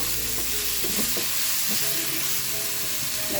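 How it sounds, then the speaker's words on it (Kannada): Tomatoes with salt sizzle steadily in a hot pan while a spoon stirs and scrapes in a few soft, irregular strokes, close and continuous, with no talking. "ಟೊಮೊಟೊ ಕೂಡ ಸಾಫ್ಟ್ ಆಗೋ ತನಕ ನಾವು ಬೇಯಿಸ್ಕೊಬೇಕು."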